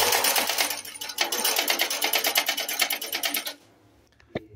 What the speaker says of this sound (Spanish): Esa es la puntada que está haciendo, muy bonita.